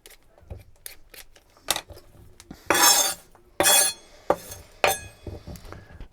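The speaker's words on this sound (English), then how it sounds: "Going to peel them off. Just using an ordinary potato peeler." Potatoes are peeled by hand with an ordinary potato peeler, giving a series of short scraping strokes with several louder rasping swipes and light clicks in a quiet kitchen.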